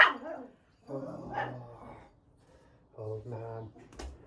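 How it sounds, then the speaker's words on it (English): An old dog barks at home in two short bursts of gruff, fairly close barking separated by a quiet pause. "What are you barking at?"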